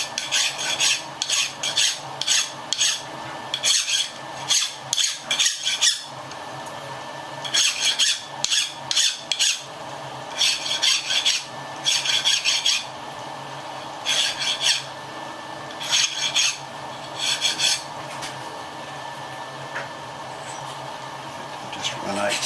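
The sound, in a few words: deburring the edge of a metal tool holder with a file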